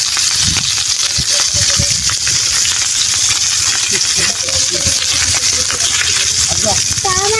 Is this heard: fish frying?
yes